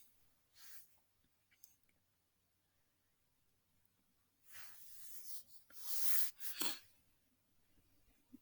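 Quiet scratching of a pencil writing on paper during a phonics lesson: a few short, soft strokes, then a longer run of brisk scribbling near the end.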